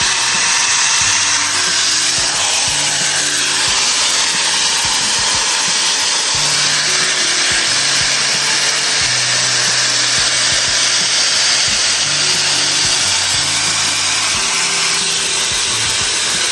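A Shark Flexfusion hair dryer runs continuously on its dry setting, a loud, steady airflow roar lasting throughout, with faint low tonal sounds beneath it and no talk.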